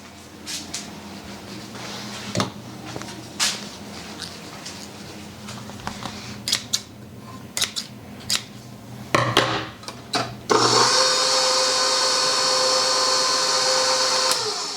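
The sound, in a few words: cutting homemade egg noodle dough into strips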